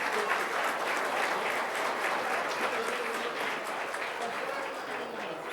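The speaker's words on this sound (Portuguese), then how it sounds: "Mais uma salva de palmas aos agraciados" Sustained audience applause at a public ceremony honoring public security agents: dense, steady clapping from a large crowd, loud and unbroken for several seconds and tapering slightly at the end.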